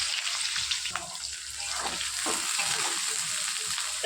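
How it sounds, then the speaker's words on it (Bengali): Garlic and onion sizzle steadily in hot oil with a continuous bright frying hiss, a few stirring scrapes breaking through, close and loud with no talking. "গরম হতে হতে আমি তেলের মধ্যে দিয়ে দিলাম একটু রসুন, তারপর ছেড়ে দেবো একটু পেঁয়াজ"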